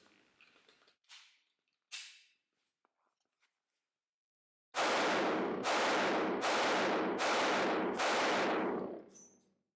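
Walther PPQ Compact 9mm pistol fired outdoors, six loud sharp shots at a steady, unhurried pace, each followed by a brief decaying echo, after a few quieter handling clicks.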